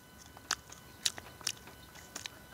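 Spicy country-style chicken feet being chewed close up, with a few distinct crunchy bites and wet chewing sounds spaced irregularly over a quiet background, no talking.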